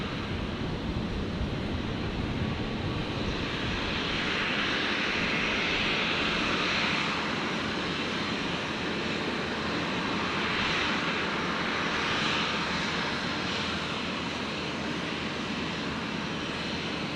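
A Qatar Airways Boeing 777 jet at Brisbane International Airport gives a steady, loud engine roar that stays broad and unbroken for the full stretch, with no voices present.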